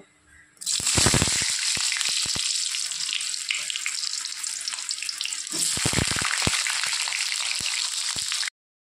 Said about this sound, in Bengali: তেল গরম হয়ে গেছে, প্রথমে আমি পটলগুলো হালকা করে ভেজে নেব